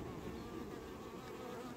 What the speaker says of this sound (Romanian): Ce mi se pare că sunt mai multe albine sus.